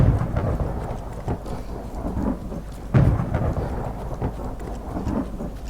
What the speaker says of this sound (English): Thunder's pretty scary, isn't it?